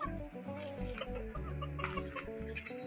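A hen clucks softly over a low, steady background hum, with short repeated calls spread across the few seconds.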